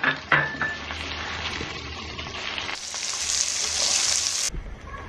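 Shallots and garlic sauté in hot oil for a Tamil pirandai vathal kuzhambu, giving a steady close sizzle with a few utensil clinks. The frying swells into a louder, brighter hiss midway, then drops off abruptly near the end.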